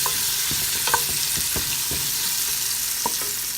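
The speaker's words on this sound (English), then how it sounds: "I'm gonna stir this up" Spaghetti sauce with basil and oregano being stirred in a pot, with a spoon scraping and knocking at irregular intervals over a steady sizzle.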